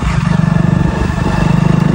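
A motorcycle engine runs steadily up close, with a loud low rhythmic putter that holds even throughout a brief stretch.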